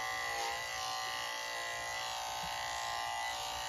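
Electric clippers buzz steadily and close up while shaving a pet dog, a continuous even hum with no pauses or voices.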